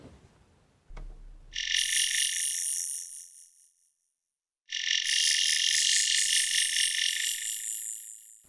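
An E-Mu Proteus 1 Plus synthesizer patch named Insects plays shrill, buzzing, chirp-like tones. They come in two long, loud sustained bursts separated by a short silence, with no talking.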